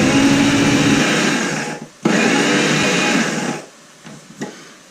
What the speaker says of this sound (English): I can put them in the blitzer